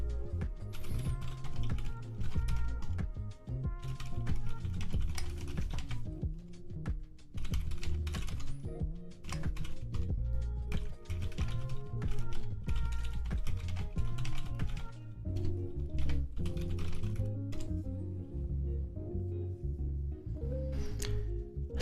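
Steady fast typing on a TKL mechanical keyboard fitted with Glorious Panda tactile switches, with dense continuous clacking over a background of music throughout.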